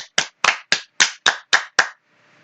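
Eight crisp, evenly spaced hand claps ring out close and loud in a steady rhythm, sounding like one person or a small group clapping in unison, then stop and leave near silence.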